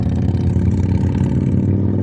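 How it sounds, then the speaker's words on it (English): A loud motorcycle engine revving and roaring nearby, steady and continuous for the whole two seconds with no talk over it. "There's like a loud motorcycle."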